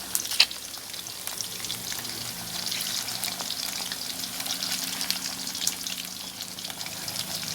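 Chicken drumsticks fry in a hot pan with oil, a steady close sizzle and crackle running throughout with a few sharper pops and no talking.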